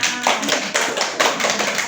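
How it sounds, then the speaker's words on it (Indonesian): A short burst of hand clapping from a few people nearby, uneven and brisk, lasting about two seconds. "Tepuk tangan"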